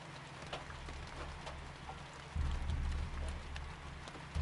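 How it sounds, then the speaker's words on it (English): In World of Tanks, rain patters steadily on the tank's metal hull as a soft, constant hiss with a low engine rumble underneath, which grows louder partway through. "You can even hit the rain, hear it hitting the metal of the tank."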